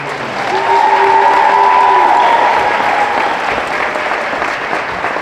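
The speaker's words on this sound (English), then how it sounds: "Let's have a round of applause for Sophia." A gym crowd applauds at a high school girls' sports honors ceremony, loud sustained clapping swelling after the first half second and holding steady, with a brief voice and faint cheering mixed in.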